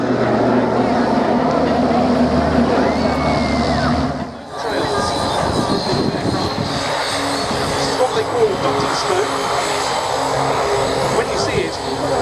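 Propeller aircraft engine droning loudly and steadily overhead at the Biggin Hill Festival of Flight air show, shifting in pitch as the plane passes, with a commentator talking over it.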